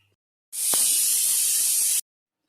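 A pressure cooker of dal on a stove gives off one loud, steady hiss of escaping steam that lasts about a second and a half and then cuts off abruptly, with quiet before and after.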